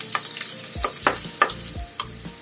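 Onions with ajwain fry in a pan, giving a close, busy sizzle with rhythmic spoon scrapes and light clinks every half second or so, with no voices.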